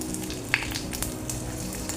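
Panch phoron spices and a bay leaf sizzle in hot oil, making a quiet steady crackle with small pops and one sharp tick, close to the pan and without talking.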